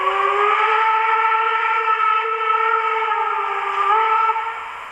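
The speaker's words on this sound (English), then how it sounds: "and then we got the longer whistle" A model steam train sounds a long, haunting whistle, a sustained multi-tone chord held loudly for several seconds before tapering off at the end, with no talking.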